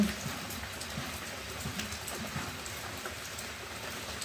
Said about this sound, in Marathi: कालपासून चालू आहे असं नुसती झिमझिम आहे